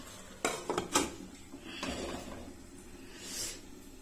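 A lid set onto a cooking pot of leafy greens in a home kitchen gives a few close metallic clanks and rattles early on, followed by softer handling noises.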